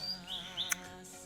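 Mountain flowerpecker (tledekan gunung) in a breeding setup giving a few short, high chirps close by, quiet, with a brief sharp click between calls.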